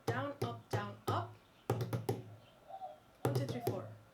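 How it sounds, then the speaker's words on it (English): A single-ended roll groove played as a set of sharp percussive taps in short clustered bursts with brief pauses between them. The taps are close and fairly quiet, with no talking over them. "the single-ended roll sounds like this."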